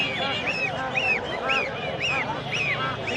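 Chinese (Muscovy) ducks call repeatedly at a busy weekly poultry market in Tongi, with loud, honking quacks coming about twice a second over a steady crowd murmur.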